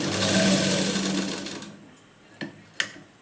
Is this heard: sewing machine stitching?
yes